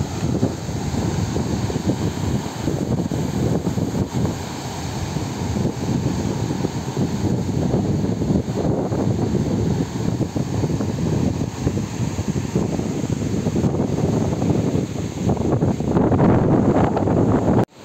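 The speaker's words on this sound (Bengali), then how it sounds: "আমার ভিডিওর মাধ্যমে সমুদ্রের এই অরিজিনাল গর্জন" Sea roar and strong wind on the private beach in front of a resort at Mandarmani, a steady, loud, continuous rushing wash of surf and wind buffeting the microphone throughout, with no voices.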